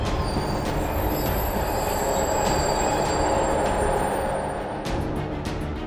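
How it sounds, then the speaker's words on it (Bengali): A moving train jolting to a stop as a story sound effect, a loud continuous rumble of wheels on rails with squealing brakes and metallic clanks. "পর মুহূর্তে প্রচণ্ড একটা ঝাঁকানি দিয়ে চলন্ত ট্রেন থেমে গেল।"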